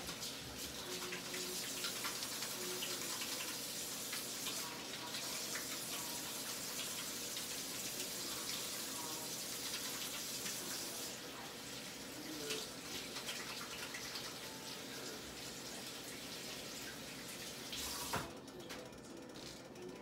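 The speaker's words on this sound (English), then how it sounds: "Wash my hands." Water runs steadily from a kitchen tap as hands are washed while frying chicken, a continuous hissing gush lasting throughout with faint clinks and kitchen clatter underneath.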